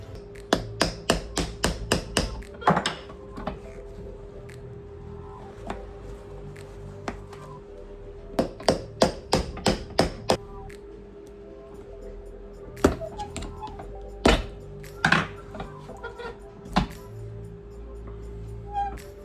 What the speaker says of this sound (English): So first thing we need to do is remove this old horseshoe, which is going to take a little bit of elbow grease.